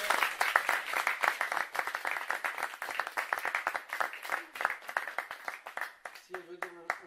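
Council-meeting audience clapping in a sustained burst of dense, overlapping applause that thins toward the end, with a voice briefly emerging over the last second.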